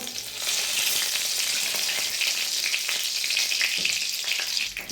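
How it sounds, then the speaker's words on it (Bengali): Five-spice seeds and a bay leaf sizzle in hot mustard oil in a kadai, a loud, dense, continuous crackling hiss close up that holds steady for several seconds, with no voices. "কড়াইয়ের তেলের মধ্যে আমি পাঁচ ফোড়ন দিয়ে দেবো"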